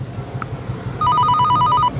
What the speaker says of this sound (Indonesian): tiba-tiba terdengar suara dering telepon